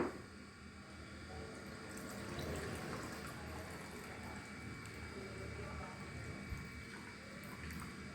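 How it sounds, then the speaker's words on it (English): Wash water drains off shredded cabbage, a steady watery rush and trickle that continues evenly for several seconds, close by and fairly quiet. "Then drain the washed water."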